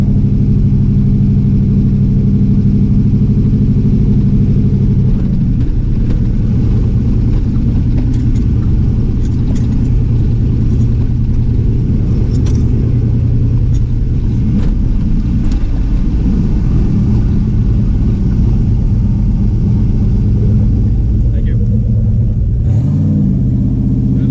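ChevStang drag car at the track on a hot night, its engine a loud, continuous low rumble close to the microphone that shifts and surges as it runs, filling the whole stretch without voices.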